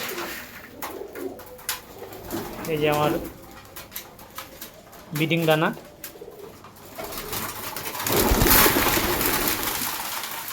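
Loft pigeons let out two clear, drawn-out coos while crowding onto their breeding grain at feeding time, someone talking between the calls, followed by a burst of splashing water-like noise near the end.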